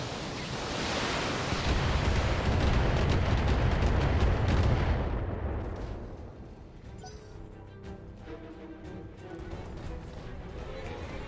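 Mech weapons fire in the BattleTech video game as a long, roaring rush of heavy blasts that swells for several seconds and then fades into quieter rumbling, with voices talking lightly in the background.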